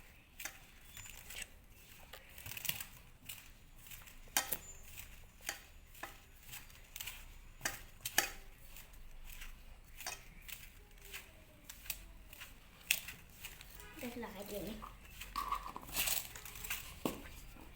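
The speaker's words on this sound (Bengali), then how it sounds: "এবার সবগুলো উপকরণকে মিশিয়ে নেব ভালো করে।" Sponge vanilla cake batter is mixed in a bowl with white oil and flour. A spoon or whisk knocks against the bowl in quick, irregular clicks and taps, close and fairly quiet, over a soft background hiss.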